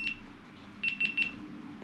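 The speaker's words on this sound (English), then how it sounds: "Why are you beeping at me?" Electronic beeps from a device on a Royal Enfield Meteor 350 during fly screen fitting: one short tone, then a quick run of three beeps, moderately loud and clear over a quiet low hum.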